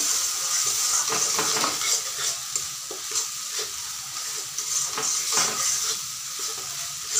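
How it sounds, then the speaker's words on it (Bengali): Spice paste for Bengali-style alur dum with small potatoes is stirred and fried in a pan: a continuous close sizzle with repeated scraping of the spoon and light clatter of cookware. "মশলাটাকে এবার ভালো করে কষাতে হবে।"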